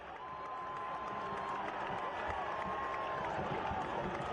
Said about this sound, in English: Sean Suber, he's pumping up the crowd